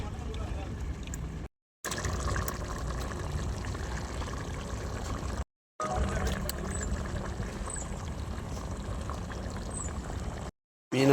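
Fish curry (sambar) bubbles in a pot in Kerala, a steady close hiss of boiling liquid that breaks off briefly a couple of times.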